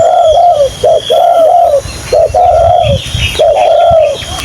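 A bird coos in repeated rhythmic phrases, loud and close, with short pauses between calls and a faint background hum.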